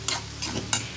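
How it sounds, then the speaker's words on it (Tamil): Egg and mixed vegetables are stirred in a sizzling frying pan, with three quick spatula scrapes over a constant soft fry. "இதை அப்படியே நல்லா எல்லா காய்கறி கூடயும் சேர்ந்து மிங்கிள் ஆகிற மாதிரி கலக்கி விட வேண்டியதுதான்"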